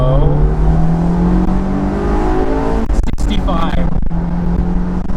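A Honda S2000 AP2 engine revs hard, its note climbing steadily in pitch into VTEC, then rising again after a brief shift break, loud and close inside the car while someone speaks briefly.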